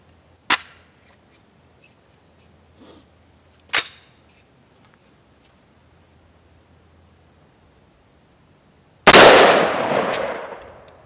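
A Palmetto State 10.5-inch AR pistol upper firing .223, two loud sharp outdoor reports spaced a few seconds apart, a faint thud between, then a long harsh noisy burst near the end.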